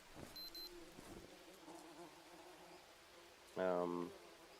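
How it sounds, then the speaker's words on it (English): Queen bees buzz faintly in the Green Hell survival game, a thin drone under soft game ambience, ending in a brief louder tonal sound. "I've got 2 queen bees that I need to put inside here"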